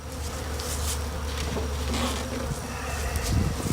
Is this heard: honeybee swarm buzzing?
yes